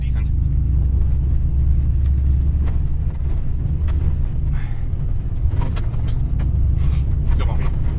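Ford Mustang driving down an ice dragstrip, a steady loud low engine rumble from inside the car with road bumps and rattles, while people talk over it.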